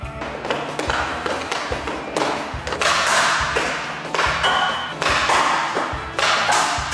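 An ice hockey stick handles and shoots a puck: a run of sharp taps and thuds, then a few harder cracking hits, close and loud, with no talking.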